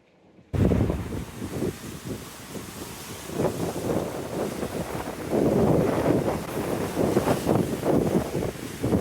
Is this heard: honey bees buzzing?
no